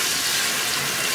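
Steady broadband hiss of shower water pouring and splashing over a Shehds 3W RGB waterproof 3D laser, continuous and fairly loud at close range with no voices.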